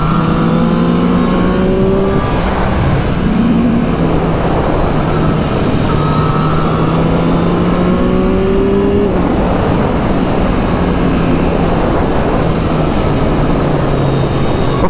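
A 2023 Triumph Street Triple 765R motorcycle is ridden at speed, its engine and induction roar climbing through the revs in several rising sweeps with gear changes, loud and close against steady wind rush.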